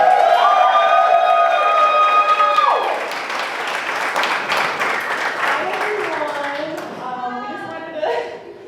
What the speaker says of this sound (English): Let's give a big round of applause here